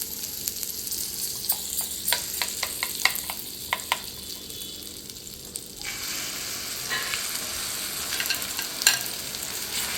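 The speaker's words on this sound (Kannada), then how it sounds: "ಎಣ್ಣೆ ಹಾಕೋಣ ಸ್ವಲ್ಪ ಪ್ಯಾನ್ಗೆ." Oil heats in a frying pan during breakfast cooking: sharp ticks and clinks come first, then a soft steady sizzle and crackle that continues close by, with no talk.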